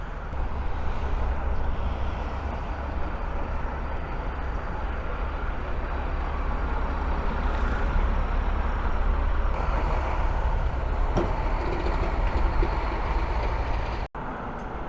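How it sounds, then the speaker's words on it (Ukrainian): A tram running on newly laid quiet track at the Dehtiarivska interchange in Kyiv, heard as a steady, smooth low rumble with a faint hiss that holds even across the whole stretch, fairly close and without talk. "Традиційно слухаємо трамвай на новому тихому конструктиві."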